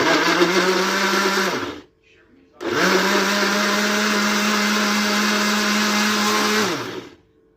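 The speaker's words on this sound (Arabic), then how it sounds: "عملت كام قطايه كده في الخلاط" An electric blender whirs loudly chopping onions, stops for a moment, then runs again for several seconds before shutting off.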